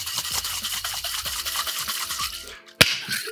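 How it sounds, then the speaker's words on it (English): Cocktail shaker dry-shaken with honey syrup and egg yolk and no ice, a close rapid swishing rattle of liquid sloshing in metal, ending in a sharp single knock. "Just a short shake to emulsify the egg."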